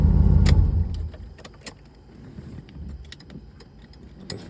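A 1980 Corvette with a faulty exhaust rumbles loudly for about a second, then cuts off, leaving scattered light ticks and clicks in near silence.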